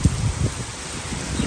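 Heavy rain falls steadily during a sudden storm, a dense, even hiss with occasional louder patters, heard alone without voices.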